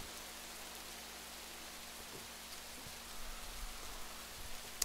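Steady rain hisses as broadband noise in the video game Rising World, falling continuously at a moderate, even level with a faint low hum beneath.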